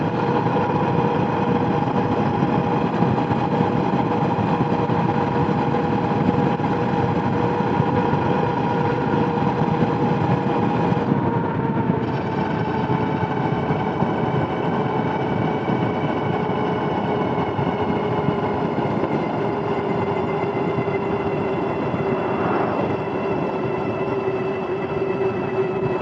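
An Aniioke A8 Pro Max dual-motor electric bike climbs a hill under throttle, its motor giving a steady, continuous whine with a constant tonal hum throughout, close and fairly loud.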